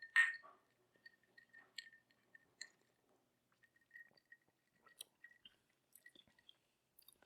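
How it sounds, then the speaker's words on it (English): Quiet, sparse crunching as someone chews coarse salt from a margarita glass rim, with small scattered crackles and clicks close to the mouth, one louder bite at the start, and no talking over it. "you hear me crunching on my salt"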